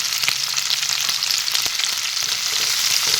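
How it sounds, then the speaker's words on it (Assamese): Chopped onions and green chillies sizzle and fry in hot oil, a steady crackling hiss with small pops and spatters throughout. "সেই তেলতে এতিয়া মই কাটি থোৱা পিঁয়াজখিনি দিলোঁ প্ৰথমতে"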